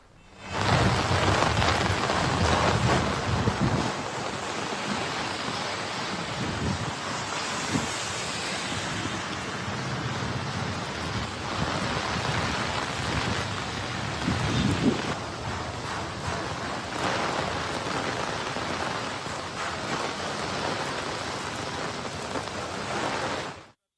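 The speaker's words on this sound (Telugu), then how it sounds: "హైదరాబాద్లో కుంభవృష్టి కురుస్తోంది. వాన దంచి కొడుతోంది." Heavy rain pours steadily over Hyderabad during a downpour, a dense continuous roar with rumbling low swells that may be distant thunder, loud and unbroken throughout with no voices.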